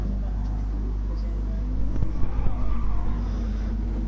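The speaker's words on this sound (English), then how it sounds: "heard a bit of screeching." Race car tyres squeal and skid briefly as a car slides sideways during an endurance league race in a racing game, over a constant low engine drone.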